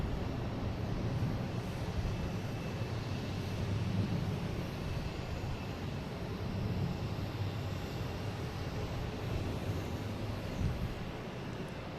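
An American Airlines jet airliner moves around Boston Logan, giving off a steady, broad, distant roar that stays fairly even for the whole stretch, with no voices over it.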